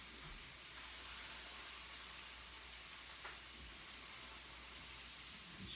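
Onions cook in a pan with a faint, steady sizzle and hiss that runs throughout, broken by a brief stirring scrape or two.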